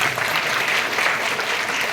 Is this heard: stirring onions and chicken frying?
no